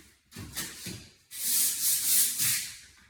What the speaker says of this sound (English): after the drywall mud has dried, I recommend a sanding block on a stick so you can hit it easy.